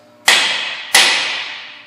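A hammer strikes the side of a vacuum hub on a 2004-2014 Ford F-150 4x4 twice, two sharp, loud metallic taps with ringing decay, about 0.7 seconds apart.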